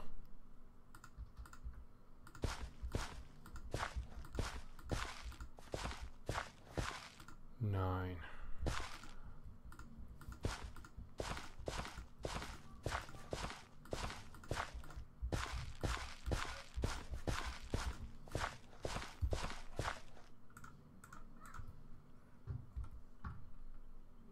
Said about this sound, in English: footsteps I'm hearing and wondering what was going on